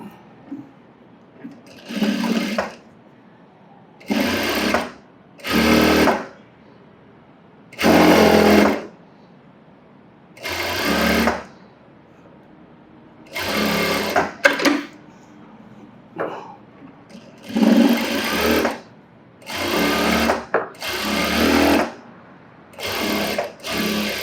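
Sewing machine running in a dozen or so short bursts of rough stitching along a blouse band, each run lasting about a second with brief pauses between, close and fairly loud, with no voices.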